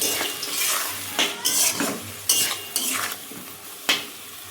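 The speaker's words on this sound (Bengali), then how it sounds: "দেওয়ার পরে ভালো করে মশলাটা কিন্তু কষাতে হবে" Spice paste stir-fried with vegetables in a pan, a spatula scraping and clattering in uneven strokes over a steady sizzle, close and fairly loud with no talking.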